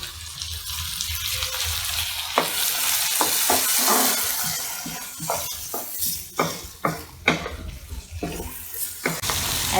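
Tomatoes dropped into a pan of cooked onion and garlic for butter chicken, with a steady frying sizzle and a series of sharp clacks and scrapes as the pieces land and are moved around, close and alone.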